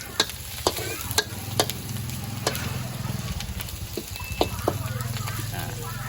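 Garlic and shallots stir-fry in a pan for a canned-fish chili paste. A steady close sizzle is broken by sharp spatula taps and scrapes at irregular intervals, with a voice talking over the cooking.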